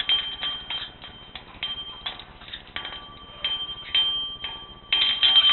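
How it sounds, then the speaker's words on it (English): Small bell rung by a pet parrot, repeated light jingling strikes in an irregular rhythm through the whole stretch, close and fairly clear. "Oh my, Norma Jean, you're ringing your bell."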